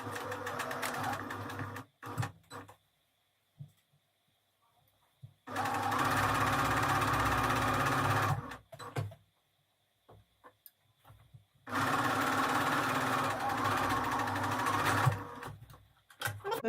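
A sewing machine runs in three long stitching passes over fabric, loud and close, with quiet gaps and a few clicks between runs and no voices.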